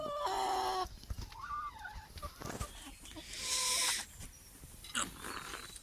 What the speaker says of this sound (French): Deux poules pékin.